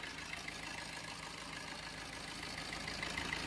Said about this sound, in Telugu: ఇంజన్ అయితే రన్నింగ్లో ఉంది